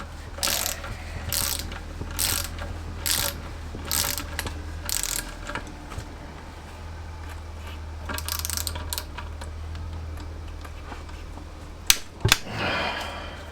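Ratchet wrench tightening crankshaft bolts with spring washers on a classic Fiat 500 engine, working in cross order: repeated bursts of close, crisp clicking, alone, with short pauses between strokes and a couple of sharp metallic knocks near the end.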